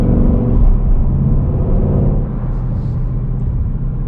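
A 2020 Ford Mustang GT with the PP2 package growls steadily while driving, a deep loud rumbling engine note that holds constant and eases slightly partway through, heard from inside the car with no talking.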